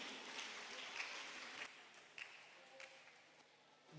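Scattered applause rises from the audience at a school science and maths quiz competition, faint and uneven with individual claps standing out as it tapers off, voices murmuring underneath.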